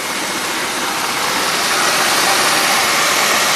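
A 2001 Buick LeSabre engine idling with a misfire on one cylinder, heard as a loud, steady, rushing engine drone close to the microphone; no distinct tapping stands out.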